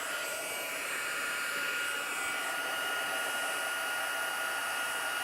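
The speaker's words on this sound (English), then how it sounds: "Grab my heat tool." A heat tool blows hot air while a greeting card is made, giving a continuous, steady, close whooshing whir like a hair dryer that never changes pitch.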